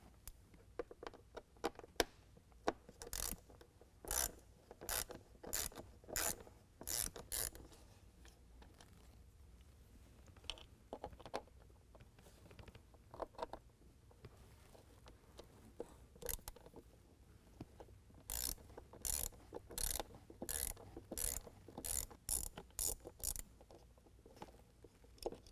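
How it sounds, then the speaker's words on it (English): A T20 Torx bit working loose the fasteners of an intake sensor on a 2020 Ram 2500 6.7L Cummins diesel, heard as quick bursts of small clicking ratchet-like ticks that come in clusters with short pauses between them, close and fairly quiet. "just take a T20 Torx bit, and we're going to go ahead and pull this whole sensor out"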